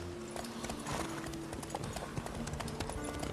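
Rhythmic hoofbeats of a horse moving at a steady trot in the video game The Witcher 3: Wild Hunt, close and clear, over a low background rumble.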